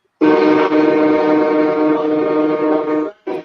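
A loud, steady train horn blasts for about three seconds, then a short second toot follows, close and clear with no talking over it.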